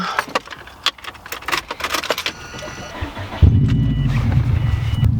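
Keys jangle and clatter up close before a car engine starts and settles into a steady low running rumble as the car prepares to set off.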